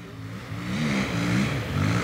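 A rally car accelerates hard through the woods on special stage 1 of the Trèfle Lozérien at Lac de Ganivet. The engine revs and climbs through the gears, loud and rising, with no talk.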